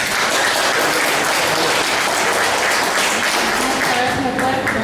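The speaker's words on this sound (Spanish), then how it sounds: "para la cual pido un fuerte aplauso" A lecture audience at a conference bursts into sustained, dense applause that fills the room at full volume throughout, with a few voices mixed into the clapping.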